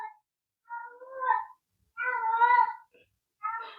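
A cat meows indoors, several drawn-out tonal cries in quick succession, fairly loud and close, with short silences between them.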